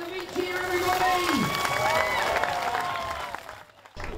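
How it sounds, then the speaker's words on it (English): A crowd cheers and applauds at a school solar car challenge event, loud and sustained for several seconds before tailing off, with a voice calling out over the noise. "Let's have a big cheer, everybody!"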